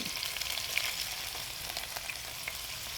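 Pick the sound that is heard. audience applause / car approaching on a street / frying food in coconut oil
frying food in coconut oil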